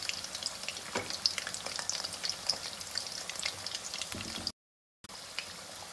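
Chinese chicken pakora deep frying in ghee over a high flame gives a steady, bright crackling sizzle, fairly close, with no voices and a brief cut to silence near the end.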